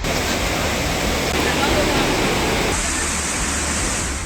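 Floodwater rushes fast through hillside village streets after a cloudburst, a dense, constant roar of churning water that stays loud throughout.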